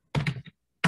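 Typing on a computer keyboard: a quick close burst of several key clacks, a short pause, then another keystroke, with no talk.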